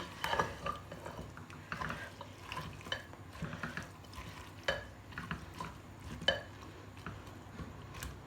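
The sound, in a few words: mutton roasting in a pot with salt, onion, garlic and ginger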